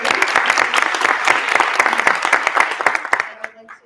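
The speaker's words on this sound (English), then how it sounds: "We have a round of applause for being in this beautiful city." An audience at a civic gathering hosted by the City of Redmond claps loudly in a thick burst of distinct hand claps, with crowd murmur underneath, before the applause thins out and dies away near the end.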